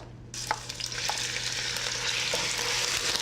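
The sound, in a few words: grated onion pulp frying in shimmering oil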